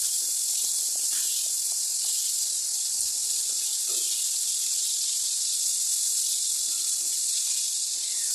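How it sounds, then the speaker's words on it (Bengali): Whole prawns coated in salt and turmeric sizzling in hot mustard oil in a wok, a loud, steady hiss with a few faint pops and clinks. "সর্ষের তেল গরম হয়ে যাওয়ার পরে যে গোটা চিংড়ি মাছগুলো নুন হলুদ দিয়ে মাখিয়ে রেখেছিলাম, সেই চিংড়ি মাছগুলো কড়াইতে দিয়ে দিচ্ছি।"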